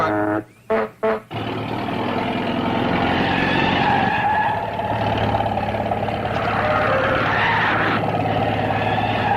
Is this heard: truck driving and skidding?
yes